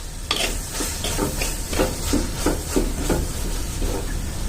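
Curry leaves sizzle in a hot pan with turmeric for a Kerala-style drumstick curry, a steady hiss broken by rhythmic scraping stirs at close range.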